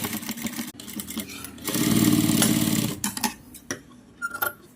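A sewing machine stitching fabric piping, a steady fast mechanical whirring run of about a second lasting mid-clip, with softer handling clicks before and after.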